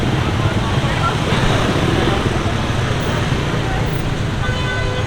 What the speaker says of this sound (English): here's traffic. Everyone's trying to go home and it's a gridlock right here